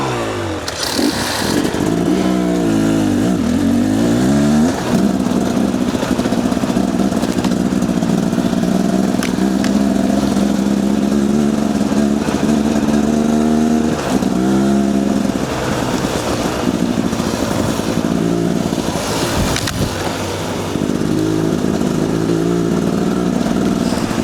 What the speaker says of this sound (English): We're still trying to tune Sam's bike